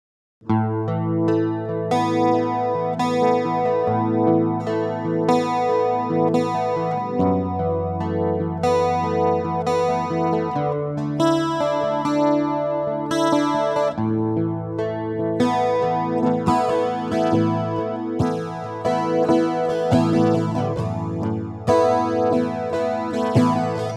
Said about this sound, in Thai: เดี๋ยวผมจะไปปรับแต่งใส่ รีเวิร์บใส่คอมเพรสอะไรเข้าไปข้างในเดี๋ยวลองฟังกันดูครับ